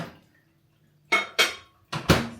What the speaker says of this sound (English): And then we put it in the microwave.